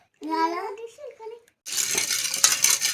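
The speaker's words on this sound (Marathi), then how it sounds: "घे चांगला हलवून साखर चांगली घेतली पाहिजे" Someone speaks briefly, then a spoon stirs sugar into lemon sherbet in a glass, a close, busy swirling and clinking that runs for over a second.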